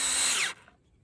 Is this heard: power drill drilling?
yes